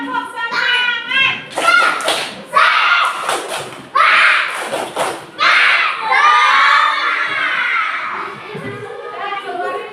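Schoolchildren in an Indonesian classroom doing the 'tepuk semangat' clapping chant: loud, close shouted voices mixed with bursts of rhythmic hand claps over about ten seconds.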